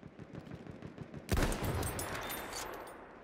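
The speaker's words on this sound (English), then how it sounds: "Aufpassen, Maschinengewehr!" Machine gun fire in the video game Battlefield 1: a sudden, loud burst of rapid automatic shots erupts partway through and rattles on to the end, following quieter rhythmic battlefield noise.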